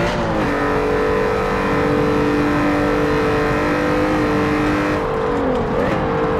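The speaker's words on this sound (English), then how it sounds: "This car has a very unique engine sound, and they replicated that pretty well." A racing car in Forza Motorsport 7 revs hard with a distinctive engine note, climbing through gears in a loud sustained whine, then briefly dropping and rising again near the end; no voices.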